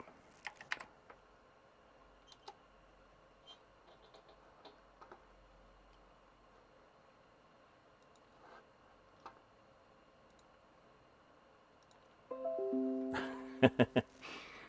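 Faint, scattered key clicks from typing on a computer keyboard while working on a Power Macintosh 6100 DOS Compatible, sparse and irregular, followed by a louder burst of clattering near the end.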